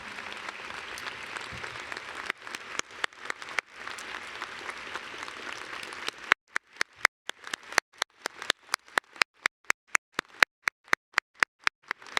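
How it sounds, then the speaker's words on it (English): A commencement audience applauds Dean Paul with steady, dense clapping that thins out midway into a few loud, distinct claps in a slowing rhythm. "Will you please give him a round of applause for me for what he's done?"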